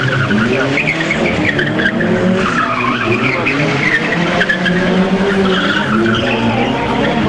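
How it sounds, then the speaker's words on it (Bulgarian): Car tires spin and skid hard at a driving competition on a town square and airfield, a loud continuous squeal over roaring engines that never lets up. "Доста въртена гуми."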